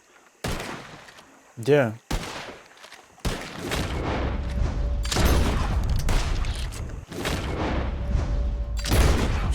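Gunfire in Red Dead Redemption 2: sharp repeated rifle and pistol shots crack in dense bursts, close and loud, with a brief shouted word among them.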